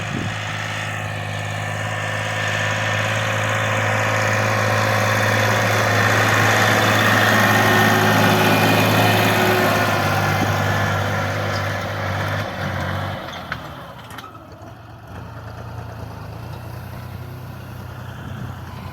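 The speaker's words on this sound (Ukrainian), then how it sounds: "Трактор працює." A small SHIFENG SF 244 C tractor engine chugs steadily for the whole stretch while hilling potatoes with a Bomet hiller, loud and close, easing off slightly toward the end with rattling vibration underneath.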